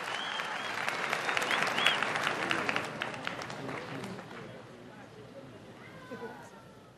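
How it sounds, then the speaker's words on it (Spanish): An audience at a Recycler's Day celebration in Ecuador bursts into loud, dense applause that gradually thins and fades, with voices mixed in near the end. "El aplauso para Laura"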